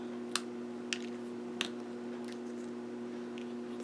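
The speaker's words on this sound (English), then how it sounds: "I'm going to bring in my snips. I'm going to snip it here." Small hand snips cut paper for a wreath greeting card, with three or four short, sharp snipping clicks spaced out over a quiet, humming background.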